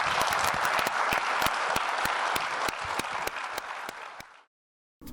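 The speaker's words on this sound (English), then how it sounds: "Let's give these guys a round of applause." A room full of people at an AI symposium applauds with dense, lively clapping that fades out after a few seconds.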